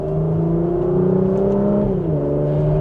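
A 2026 Porsche Macan GTS sport exhaust drones steadily under acceleration, its note rising in pitch and then dropping briefly as the gear shifts, loud and close.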